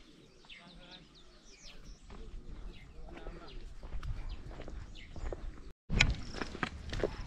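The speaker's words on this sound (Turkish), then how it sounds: "Kuşların sesi." Birds chirp and tweet outdoors in Malawi amid a steady background of rustling ambient noise, the calls scattered and moderately faint.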